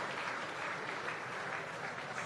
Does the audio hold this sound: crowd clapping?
yes